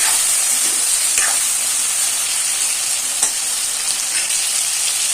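Tomatoes seasoned with salt and turmeric powder fry in a pan for a fish curry, giving a steady, close bright sizzle with faint stirring scrapes and no one talking.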